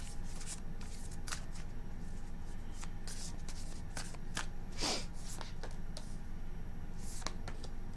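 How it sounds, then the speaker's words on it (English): Tarot cards are shuffled close by in repeated quick riffles and slaps, a rapid flurry of crisp snaps over a steady background hum. "2 more shuffles."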